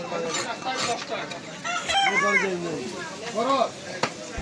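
Chickens cluck and a rooster crows amid a busy outdoor hill market crowd in Chittagong, with people chattering loudly in the background throughout.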